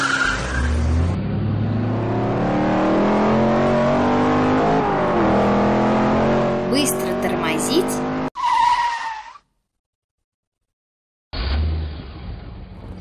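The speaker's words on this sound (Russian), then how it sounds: "получится гоночная машинка, которая умеет быстро разгоняться" A cartoon race car from a children's educational animation revs loud and climbs in pitch for several seconds, then cuts to a brief skid-like burst, a pause of silence and another short engine blast.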